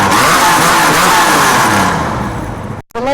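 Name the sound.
TVR Tuscan sports car revving with exhaust pops and bangs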